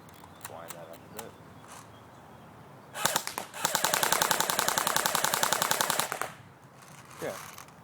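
An Echo1 AK CPM AKS-74U airsoft rifle rattles off a sustained full-auto burst of rapid, evenly spaced shots lasting about two and a half seconds, preceded by a few quick clicks and a short burst, with brief talk around it.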